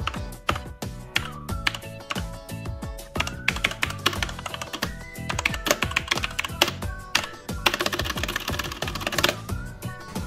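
Rapid, continuous clacking of keys being typed on a Redragon Dark Avenger mechanical gaming keyboard, loud and close, with dense bursts of keystrokes and no voices.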